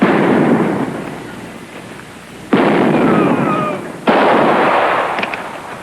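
Rifle gunshots in a 1959 western movie scene, two sharp loud cracks a second and a half apart, each followed by a rolling echoing boom over a steady background rumble.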